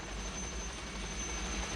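Helicopter in flight heard from inside the cabin, a steady, loud, continuous rotor and engine drone with no pauses and no voices.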